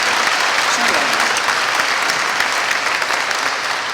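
A dense, loud burst of audience applause fills a school's 100th anniversary celebration as the crowd honors the cafeteria staff, sustained evenly throughout.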